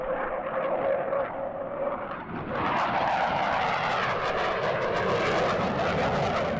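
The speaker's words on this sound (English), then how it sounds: "First up is the Saab J-35 Draken." Saab J-35 Draken jet performing a solo flying display at an air show in Jersey, a loud continuous engine roar that swells and grows harsher as the aircraft passes close overhead.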